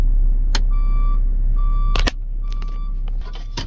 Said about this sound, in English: this is my switch for my backup alarm